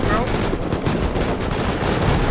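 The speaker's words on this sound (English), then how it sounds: "Behind you, he's shooting behind you." Rapid automatic gunfire from the video game Rust crackles loud and dense throughout, continuous bursts filling the whole stretch.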